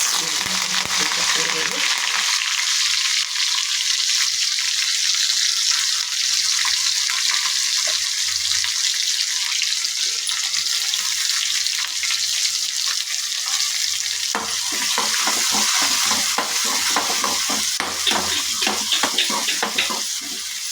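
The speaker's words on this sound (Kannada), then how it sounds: "ಕಡಲೆಬೇಳೆ ಹಾಕ್ಕೊಳ್ತಾ ಇದ್ದೀನಿ ಸ್ವಲ್ಪ ಫ್ರೈ ಆಗಲಿ" Chana dal frying in hot oil in a pan while bitter gourd palya is made, a steady close sizzle throughout with scattered crackles and stirring clinks growing busier toward the end.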